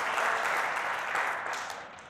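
A church congregation claps together, a dense, even wash of many hands sounding at once, loud at first and then tapering off toward the end.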